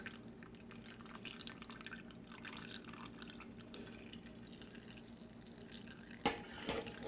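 Juice from a homemade four-pepper hot sauce drips and trickles through a wire mesh strainer, a faint continuous wet patter with a couple of louder splashes near the end.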